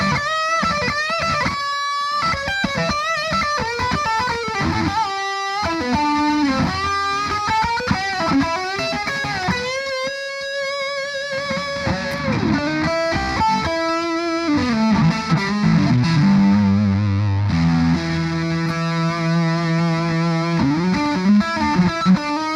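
Distorted electric guitar through a Diezel Herbert amplifier on its lead channel, playing fast melodic runs and bends with sustained, singing notes near and loud, with no talking over it.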